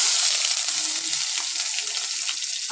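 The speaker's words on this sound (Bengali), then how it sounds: "তেলের মধ্যে শুকনো লঙ্কা, জিরে আর তেজপাতা দিয়ে দেবো" Dried red chillies, cumin and bay leaf sizzle hard in hot oil for a vegetable dal, a loud continuous hiss close up with a few faint stirring sounds underneath.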